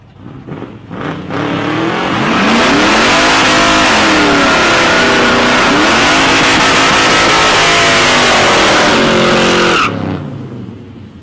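A Holden Ute at a street drag race roars loudly off the line, engine revving up through rising gear sweeps for several seconds before abruptly cutting off.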